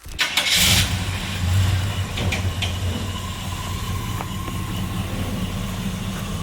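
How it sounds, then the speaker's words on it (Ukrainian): A 1965 GMC 1000 pickup engine cranks and catches, then roars loudly before settling into a rough, rumbling idle close by. "Ось справжній двигун."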